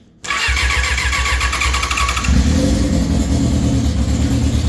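A first-generation Yamaha R6 motorcycle being rebuilt cranks with the starter and fires up, then settles into a loud, steady, close idle with no voices.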